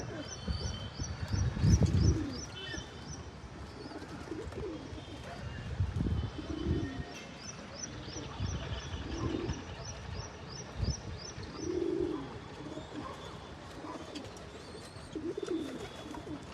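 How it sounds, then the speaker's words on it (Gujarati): Pigeons perched up high coo in soft low repeated bursts every couple of seconds, accompanied by faint high chirps of other birds and occasional voices in the background. "હંધા અહીંયા બેઠા છે કબૂતરા ઉપર, થોડાક અહીંયા બેઠા છે"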